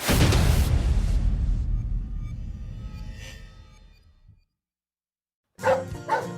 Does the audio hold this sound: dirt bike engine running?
no